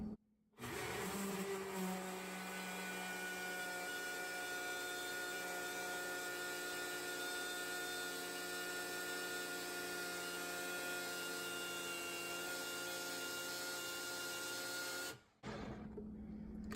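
A countertop blender runs steadily through a green smoothie, a loud continuous motor whir and churn that holds for about fifteen seconds before cutting off abruptly, with no talking over it.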